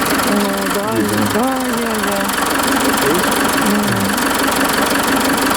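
A warmed-up car engine idles steadily and loudly in park, with people talking over the continuous rumble.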